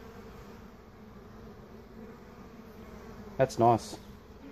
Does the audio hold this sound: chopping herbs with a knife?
no